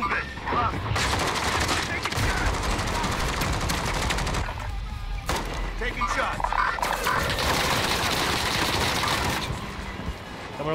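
Sustained, close gunfire in Call of Duty Warzone, rapid automatic bursts nearly continuous over the span with one short lull, with voices talking over the shooting.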